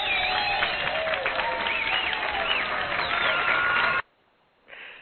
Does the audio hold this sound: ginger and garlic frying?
no